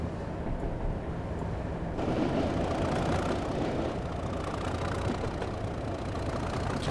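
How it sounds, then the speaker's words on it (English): A Class 37 diesel locomotive engine in Train Simulator 2016 idles with a steady, deep growl and a continuous mechanical rumble, slightly building in intensity after a couple of seconds, with no talking. "Just really hear that engine now just growling up, ready to go."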